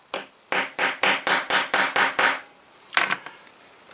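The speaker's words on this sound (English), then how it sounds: "pop it on the rubber like so, and then give it a couple of whacks with the hammer" A hammer strikes a punch resting on a rubber pad to cut a small washer, eight sharp, close, evenly spaced blows in quick succession, followed after a pause by two lighter knocks.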